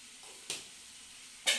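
Onions frying in a pan with spices: a soft, steady sizzle underneath, broken by two short, sharp stirring scrapes about a second apart, close by and with no voices.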